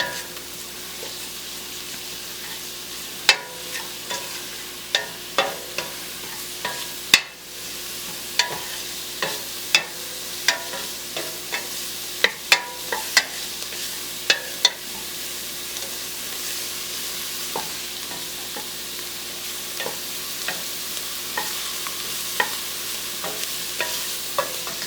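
Dried herbs and spices heating in a pan for marinara sauce, a soft continuous sizzle broken by scattered sharp pops and ticks of stirring, close but fairly quiet, no talk.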